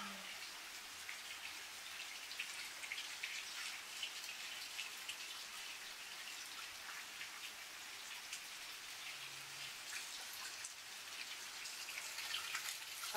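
Steady rain during a thunderstorm pours in a soft, even hiss with fine pattering drops, continuous and fairly quiet throughout.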